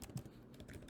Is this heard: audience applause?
no